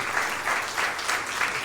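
Applause from an audience honoring people at a church-style gathering about being rescued by love, a short steady wash of clapping that swells slightly in pulses, moderately loud with no talk over it.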